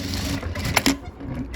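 A sewing machine stitches a sleeveless blouse with a keyhole opening, running a double line of stitches. It makes a steady close mechanical whir with a couple of brief louder bursts partway through.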